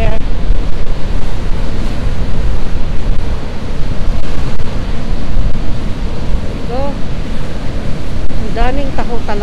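Ocean waves surge and wash onto the California coast with strong wind buffeting the microphone, a loud continuous roar with brief faint voices near the end.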